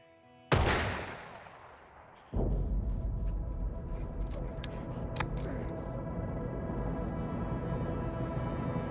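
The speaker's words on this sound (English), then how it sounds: "Nice shooting." Gunfire in a Hollywood thriller: a single loud, close shot with a long ringing decay, then a second heavy blast that gives way to sustained rumbling and scattered cracks, with faint rattling continuing to the end.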